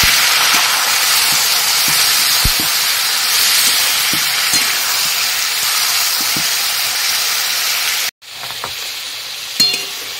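Beans sizzle loudly in a pan with fried onion, garlic and green chilli, a constant hissing fry broken by a brief drop to quiet, with a few faint clinks.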